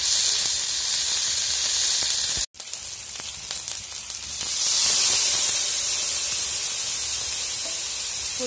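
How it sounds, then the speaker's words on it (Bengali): Onion fries with ginger and garlic paste in a kadai, giving a steady sizzling hiss that briefly drops out, then swells louder before settling back into a constant background fry. "পেঁয়াজ দেওয়া হলো, তারপর আদা বাটা রসুন বাটা দিয়ে একসঙ্গে ভেজে নিচ্ছে।"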